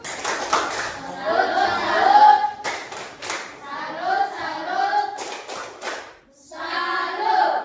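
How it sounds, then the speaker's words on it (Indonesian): A classroom group performs a patterned 'tepuk salut' salute clap for the first group, sharp rhythmic bursts of hand claps in short sets separated by chanted voices. "Mari kita beri tepuk salut untuk kelompok 1."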